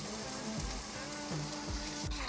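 Bacon jam cooks slowly on low heat, a steady, soft, even sizzle with a low hum underneath and no talking.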